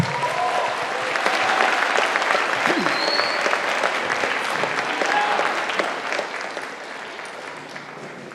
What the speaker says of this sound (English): Let's give them all another big round of applause.